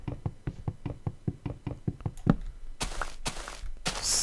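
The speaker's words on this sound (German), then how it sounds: "die Tür hauen wir dann auch mal noch schnell mit der Hand ab" A wooden door is broken by hand in the Minecraft video game: a rapid, even series of about a dozen dull wooden knocks, followed by a few louder crunching thuds as the door gives way.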